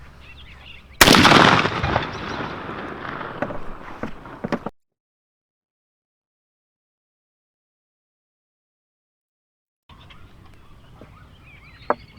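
A shotgun fires a Remington turkey load at 20 yards outdoors: one sharp, loud blast followed by a rumbling tail of a few seconds, then a sudden cut to silence before faint background noise returns.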